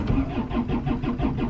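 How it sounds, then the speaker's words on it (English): A car engine cranks and starts at a campsite, a loud close rhythmic churning of the starter repeating several times in quick succession. "Starting the engine."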